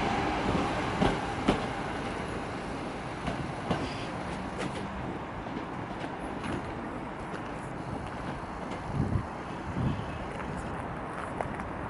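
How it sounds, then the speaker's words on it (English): A British Rail Class 156 diesel train moves through Manchester Piccadilly station, a steady rumbling wash of rail noise with faint clicks and thuds from the wheels, heard from the platform at moderate distance. "There's a 156, and here's a cross-country Voyager pair"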